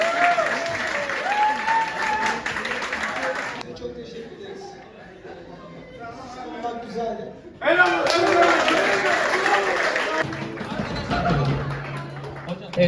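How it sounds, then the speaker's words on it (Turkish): An audience claps at a Turkish school farewell gathering, with bursts of applause alternating with louder crowd voices and chatter. The clapping rises and falls and overlaps with people talking. "hep birlikte büyük bir alkış, alkış alıyoruz arkadaşlar"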